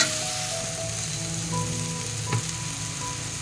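Garlic with salt and turmeric sautés in a hot pan, a close, steady sizzle with soft scraping and stirring touches and one brief clatter near the end.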